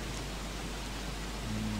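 Steady rain pours in the survival game Don't Starve, a constant soft hiss that holds at an even level throughout, with a faint low hum near the end.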